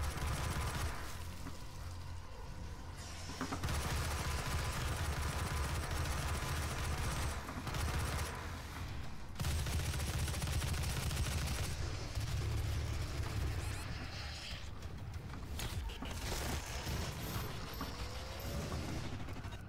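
Dense rifle gunfire in the shooter game DOOM, loud and sustained bursts layered with explosions and game effects across the whole stretch, with brief dips between volleys.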